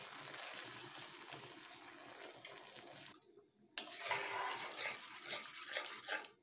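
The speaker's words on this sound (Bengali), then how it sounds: "এবার এখানে আমি সসের মিশ্রণটিকে এখানে দিয়ে দিচ্ছি।" A sauce mixture thinned with a little water is poured and stirred into a pan for chili chicken, giving a steady, close liquid rush that breaks off briefly midway and then resumes a little louder.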